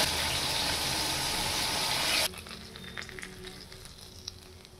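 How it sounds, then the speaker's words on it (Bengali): Fish fry in oil in a wok with a loud, dense sizzle that drops sharply halfway through to a quieter crackle with occasional pops. "মাছগুলো কড়াই দিয়ে লালচে করে ভেজে উঠিয়ে নিতে হবে"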